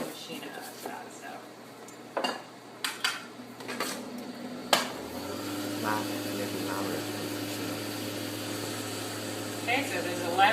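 Clattering and knocking of parts, as if dishes are being handled, gives way to a vegetable juicer motor that starts up and hums loudly and steadily to the end, close by.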